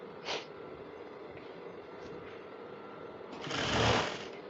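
A sewing machine stitches a sleeve placket on a top with a bishop collar, a low steady whir with a brief high buzz near the start and a louder, faster run of stitching toward the end.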